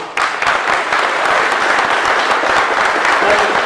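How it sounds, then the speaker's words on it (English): Steady audience applause, many hands clapping together at a constant, fairly loud level for a few seconds. "Let's give them a round of applause, please."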